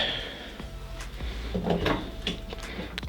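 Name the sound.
1978 Chevy El Camino door opening and closing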